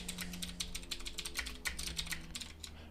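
Steady keyboard typing on a computer while Python code is entered, a quick run of close key clicks with brief pauses, a low steady hum underneath and no talking.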